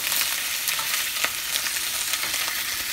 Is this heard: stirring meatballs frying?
yes